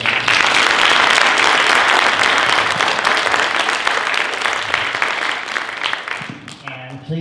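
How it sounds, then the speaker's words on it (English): Loud, dense audience clapping for the final speaker at a live storytelling event, sustained for about six seconds and slowly easing before a voice comes in at the end. "Please give Evie a round of applause."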